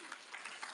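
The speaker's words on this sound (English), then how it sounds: "you can clap for them and me" Audience applause at a livestream party, a dense burst of many hands clapping in a room, steady and fairly close throughout the brief moment.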